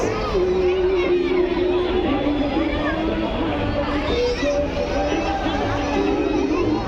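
Busy crowd bustle around a large Christmas tree at Phoenix mall in Pune, with children's voices and overlapping chatter forming a steady, close hubbub throughout.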